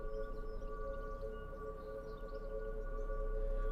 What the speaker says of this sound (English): It's likely just a malfunctioning tornado siren, like this.